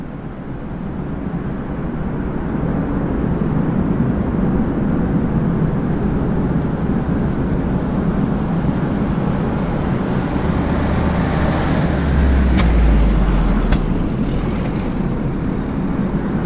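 A distant engine drones as a radio-drama sound effect in a WWII village setting, a steady low rumble that holds for the whole stretch and swells slightly near the end, with no voices.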